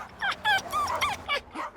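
A dog whimpers in a shelter, giving a handful of short, high, plaintive whines and yips in quick succession, close and fairly clear with no talk.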